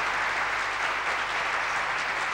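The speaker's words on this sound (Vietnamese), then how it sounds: "Chúng ta hãy dành những tràng pháo tay thật nồng nhiệt để chúc mừng cho ba thí sinh." A pageant audience at the Miss Vietnam 2000 final claps warmly for three contestants, a loud, continuous wall of applause.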